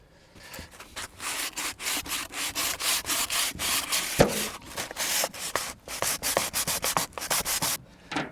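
Old paint being scraped off a wooden window frame, a run of close, rough rasping strokes in quick bursts with short pauses between, steady and fairly loud, no voices.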